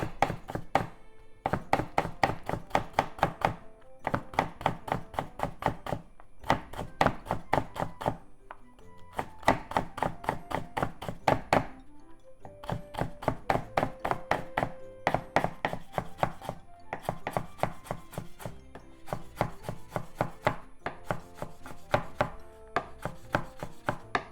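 A knife cuts spinach into very thin strips for a spinach and bean sprout salad. Rapid, crisp chops come close up in regular bursts with short pauses between them, and no one speaks.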